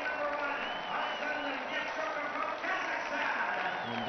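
Spectators at a London 2012 Olympic men's canoe single 1000m race make a sustained, distant cheer and applause, with a commentator talking over it throughout.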